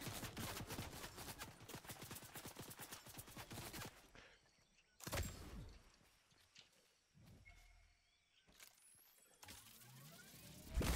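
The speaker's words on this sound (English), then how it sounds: "So I need my shotgun again." Video game gunfire: a long burst of rapid shots, then a pause and several short, sharp volleys separated by quieter gaps.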